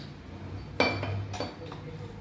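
A cooking pot is set down on a lit stove while preparing a sweet, giving a short metallic clink followed by a fainter knock, close and fairly quiet.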